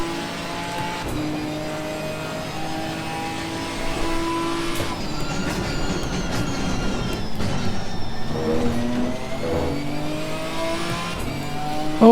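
Ginetta G55 GT4 race car in Assetto Corsa Competizione, engine droning and revving steadily through gear changes with brief tyre squeal, loud and continuous as the car is driven to warm its tyres.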